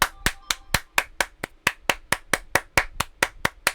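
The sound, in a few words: hand clapping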